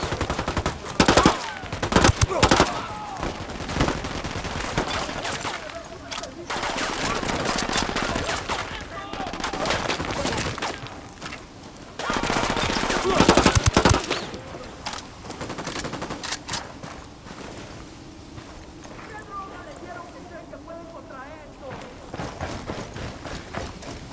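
Automatic and single-shot gunfire from the tactical shooter Ghost Recon Wildlands, with dense, loud bursts of rattling shots that come in waves and brief lulls, and some faint voices mixed in.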